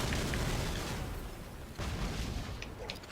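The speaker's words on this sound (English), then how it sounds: "The mortars are doing good work" Mortar explosions in the video game Battalion Wars, a dense, continuous low rumble of blasts with sharp bursts around the middle and near the end, loud and steady without pause.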